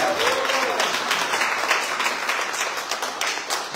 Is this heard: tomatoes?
no